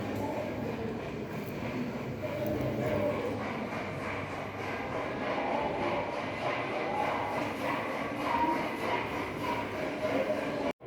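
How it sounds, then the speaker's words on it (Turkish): A train rumbles steadily past nearby in Istanbul, a continuous low roar with faint rattling that holds for the whole stretch. "Arkadan tren sesi geçiyor"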